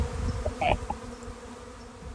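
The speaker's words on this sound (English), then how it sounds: "here's the sound of bees swarming last week." Honeybees swarming, a steady close insect hum and buzz filling the clip, with a short spoken word near the start.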